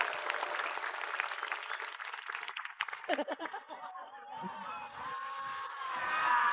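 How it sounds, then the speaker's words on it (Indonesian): Studio audience at an Indonesian TV comedy show applauds, a dense clapping wash that fades after a few seconds into scattered claps, chuckles and crowd murmur. "kasih tepuk tangan untuk Olga Saputra"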